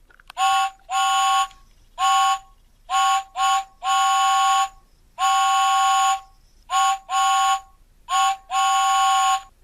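A Thomas & Friends James DVD case with a built-in electronic train whistle sounds a series of toots, short and long, each bright and close, separated by silent gaps.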